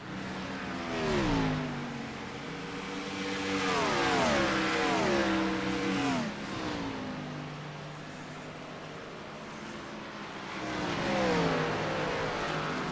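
NASCAR stock cars race at Nashville Superspeedway in the iRacing simulator, with several engines droning and shifting pitch as the cars sweep past in overlapping waves of sustained revving.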